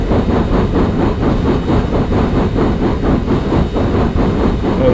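A CP Royal Hudson 2860 steam locomotive in the Open Rails train simulator climbs Kicking Horse Pass, a steady loud rolling rumble with a regular rhythmic beat that continues throughout without talk.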